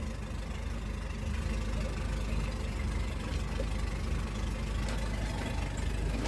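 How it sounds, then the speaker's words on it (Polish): A low, steady engine idles nearby with a constant rumbling drone, no voices and no change in pace throughout. "silnik odpalony"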